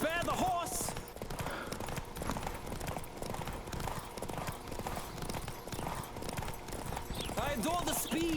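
Rapid, rhythmic hoofbeats of a galloping horse in The Witcher 3 drum steadily up close, with game sounds around them and a voice talking briefly near the start and end.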